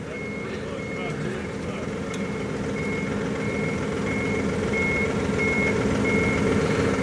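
A compact tractor backing up sounds steady, evenly spaced reversing beeps over a constant engine drone that slowly grows louder, with a person speaking at times.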